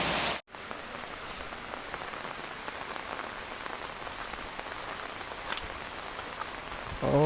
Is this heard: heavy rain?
yes